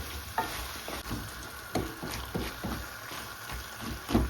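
Jackfruit seeds and plantain sautéing in a pan, a steady soft sizzle with repeated scraping stirs of a spoon, close and continuous, with no voices.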